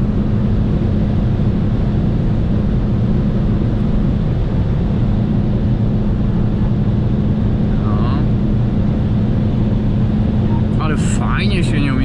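BMW 330i E46 with a 3-litre engine cruising fast on a motorway, a loud steady drone of engine and road noise filling the cabin, with someone talking over it.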